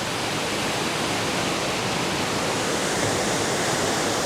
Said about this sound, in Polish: Piękny wodospad!